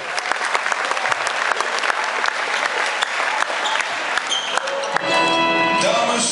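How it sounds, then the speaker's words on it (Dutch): Hearty audience applause greets a hockey team at a match between Hurry Up and HC Berchem, steady dense clapping that continues throughout, with ringing tones entering near the end. "verwelkom met een hartelijk applaus onze jongens van Hurry Up."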